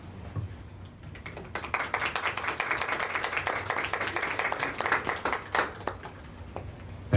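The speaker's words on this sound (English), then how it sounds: "we are a clap between every poem community currently" Audience applause after a poem is read at a writers' event, a few seconds of steady clapping from a small room crowd that rises quickly and then tapers off.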